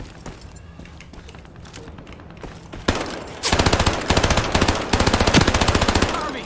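SMG gunfire in a video game, starting as a sudden loud shot and then several rapid automatic bursts of fast, evenly spaced rounds, close and dominant over a quieter background.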